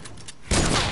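A short burst of gunfire in the Fortnite video game: a few faint pops, then a loud dense crackle of shots filling the second half.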